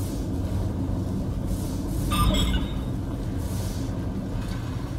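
Train in the video game Star Trek Elite Force II: a steady low rumbling rush with a brief metallic clanking burst midway, moderately loud and without talk.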